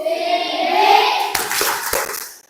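Students clap in pairs, a few sharp hand claps landing in a rhythmic sequence after a stretch of singing or chanting voices.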